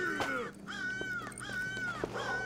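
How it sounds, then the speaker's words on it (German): A crow in the Secret Neighbor video game caws in a clear series of about four harsh, descending calls, evenly spaced and fairly close, with no talk over them. "Das ist die Krähe, Leute."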